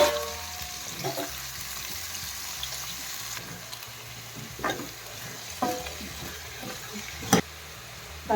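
Bitter gourd frying in hot oil for a bitter gourd palya, with steady low sizzling and scattered sharp clinks and scrapes of stirring, one louder clatter near the end; no talking.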